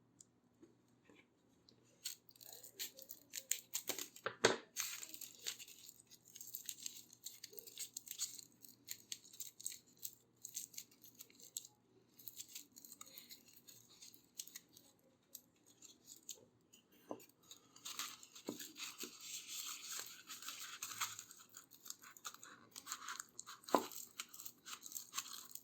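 Excess biscuit modelling clay trimmed away around a recycled glass jar, a series of soft close crunchy snips and cuts with scattered sharper clicks, quiet and alone without talk.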